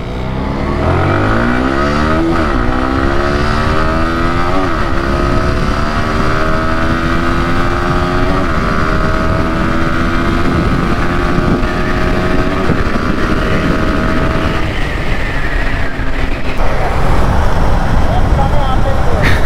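A sport motorcycle in a Yamaha R15 V3 versus CFMoto 300SR 0 to 60 and 0 to 100 acceleration test revs hard nearby, its engine note climbing repeatedly through several gear changes before settling into a loud, sustained high drone.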